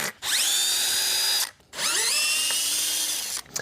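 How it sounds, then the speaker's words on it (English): Power drill fitted with a number 2 Robertson bit backing screws out of the bottom rail of a Palm Beach Polysatin shutter panel, two long whining runs separated by a short pause, close and loud. "We need our number 2 Robertson bit, and we're going to take all 4 screws out of this bottom rail."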